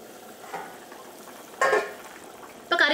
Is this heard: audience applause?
no